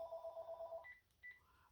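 A faint electronic telephone ring sounds indoors as one steady tone, then two short beeps follow in the background.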